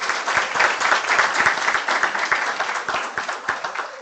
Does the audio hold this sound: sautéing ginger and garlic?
no